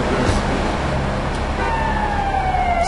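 Police car siren in the Grand Theft Auto 3 video game, a wailing tone sweeping over a steady bed of traffic and engine noise.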